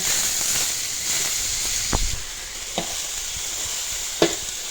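Morning glory stir-fried in a hot pan gives a steady loud sizzle and hiss, with a few sharp scrapes and clacks of the spatula tossing the greens; no talking.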